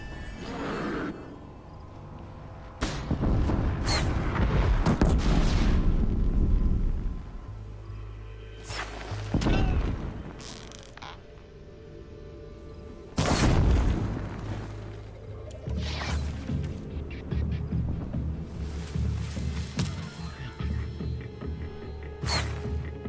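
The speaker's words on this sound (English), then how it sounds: "They're still trying to shoot stuff at me, I guess?" Cultist enemies fire at the player in Horizon Zero Dawn, with booms, whooshes and crashing impacts bursting over a low game soundtrack at irregular intervals, loud near hits among quieter stretches.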